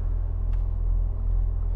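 A 1996 Lotus Esprit V8, fuel-injected, idles steadily after starting, with a deep, even low rumble held at constant loudness and a faint brief click partway through.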